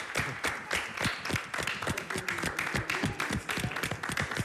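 An Italian television studio audience applauds, giving loud, distinct individual claps in a brisk, uneven patter that continues throughout.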